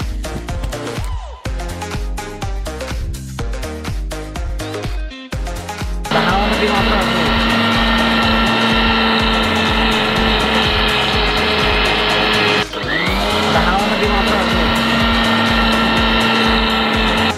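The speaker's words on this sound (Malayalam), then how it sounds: "അപ്പോൾ ഞങ്ങൾ മൂന്ന് കപ്പ് പഞ്ചസാര പൊടിക്കുന്നു" A mixer grinder powders three cups of sugar, its loud steady whine starting partway through after speech and clattering, running continuously with a brief dip near the end.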